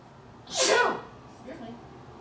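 A single sharp sneeze, loud and close, with a quick intake and hissing burst, followed by a fainter trailing sound.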